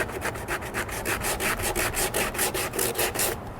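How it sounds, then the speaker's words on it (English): Dried body filler on a McLaren 650S Spider is hand-sanded with 80 grit sandpaper, a loud, close, rhythmic rasping in quick even strokes, roughly five per second, until it stops near the end. "now I got 80 grit sandpaper and we're gonna work this area"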